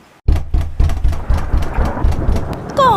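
Loud rumbling thunder over rain, sounding as a rapid series of close, pulsing bursts after a brief quiet start.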